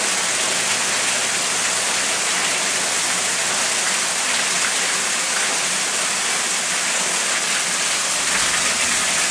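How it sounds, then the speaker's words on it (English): Water pours into a flooded basement like a small waterfall, a loud, steady rush of splashing that fills the whole stretch without a break and with no talking. "we got water in our basement now"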